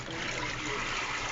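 Freshly pressed ginger juice trickles and splashes in a steady, close liquid stream during juicing, with no pauses and no talk.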